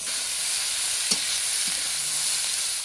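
Onions dropped into hot oil tempered with whole spices give off a continuous, bright sizzling hiss close by, with a faint clink of a utensil partway through.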